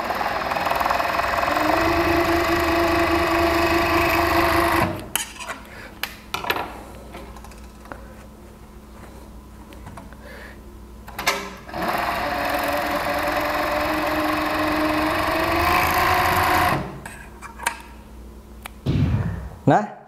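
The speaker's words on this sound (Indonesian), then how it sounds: "Nah, ini saya obras untuk bahunya yang tadi dijahit." An overlock serger finishes the shoulder seam of an A-line gamis dress in two loud, steady whirring runs of several seconds each, with quieter handling clicks and pauses in between.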